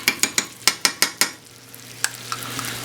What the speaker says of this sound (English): I'm going to add in some tomato paste.